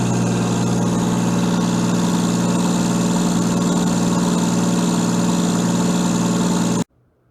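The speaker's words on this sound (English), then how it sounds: "This is your positive displacement rotary gear circulating oil pump." A positive displacement rotary gear oil circulating pump for an engine hums loudly and steadily with a low mechanical drone and vibration, running continuously before cutting off abruptly near the end.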